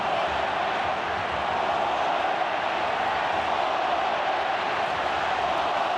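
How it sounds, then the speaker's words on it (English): A big rugby stadium crowd roars in support during a 2006 All Blacks versus Wallabies Bledisloe Cup test, a loud, steady, unbroken wash of cheering voices with no breaks and no single voice standing out. "Listen to the crowd pouring their support into this."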